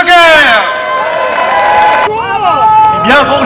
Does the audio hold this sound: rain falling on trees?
no